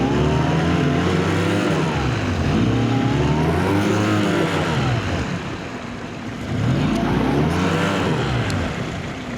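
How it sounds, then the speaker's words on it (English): Outboard boat engine straining and cavitating in weed-choked mangrove water, a loud continuous motor roar whose pitch rises and falls in wavering surges, dipping briefly then climbing again, with no talk over it. "Every time I hit these weeds, my engine cavitates"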